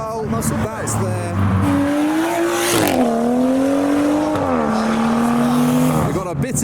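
Mitsubishi Evo 9 and Evo 8 cars, one in Rally Art livery, roll past at a street car meet. Loud engine notes rise and fall as they go by, with brief tire squeal near the start and end.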